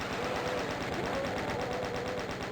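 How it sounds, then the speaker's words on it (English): Chaingun fire in the video game Doom II, a dense continuous rattling stream of rapid shots at loud, steady level with no talking. "Well, we chain gun them."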